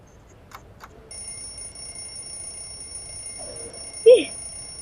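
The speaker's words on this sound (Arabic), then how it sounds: "صحيت خلاص يا منبه صحيت" Alarm clock going off in a bedroom, a brief loud ringing burst near the end after quiet electronic hum and a couple of faint taps.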